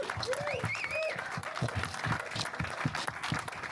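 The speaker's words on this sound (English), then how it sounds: "But give a big round of applause for Kali, please." An audience claps for a speaker at the close of an in-conversation event on cooperatives, a dense continuous patter of hands at moderate volume, with a brief whistle-like tone and some crowd murmur underneath.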